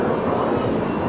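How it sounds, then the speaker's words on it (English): Thunderbirds jets practicing a flyover for Daytona 500 weekend produce a steady, broad jet roar, moderately loud and continuous, with no voices present. "it's actually Daytona 500 weekend, and the Thunderbirds are practicing their flyover."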